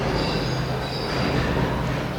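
A train rumbles past close by, a steady loud roar of wheels on rail with faint squeal, continuous throughout without talk.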